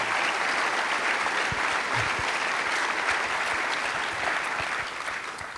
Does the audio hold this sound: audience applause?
yes